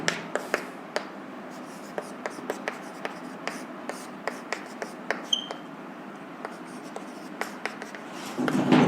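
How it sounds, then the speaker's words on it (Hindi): Marker or chalk strokes on a board during an electrical network analysis lecture, a steady series of short sharp taps and scrapes at close range, with faint room noise and a rustle near the end. "इसको यहां लिख देता हूं मैं"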